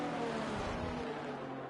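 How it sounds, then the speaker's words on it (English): Onboard engine of a Ferrari Formula 1 car in the F1 2023 video game at the Portugal circuit, a steady, loud, high-revving whine sustained at near-constant pitch throughout, with no talk. "Let's drive on board with Shea here in the Ferrari."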